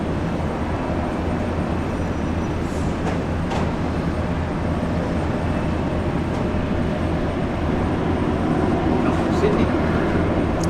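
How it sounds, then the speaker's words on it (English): A Rex domestic airliner rolls along after touching down at Brisbane airport, a steady broad engine roar at moderate distance holding for the whole stretch, with no voices. "A domestic airline, Rex, has just landed."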